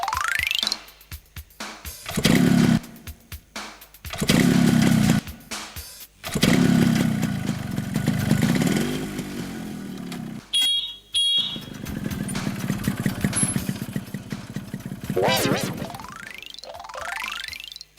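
A motorcycle engine runs close by, with repeated revving bursts that rise and fall and pause between them. A high electronic beeping sounds partway through.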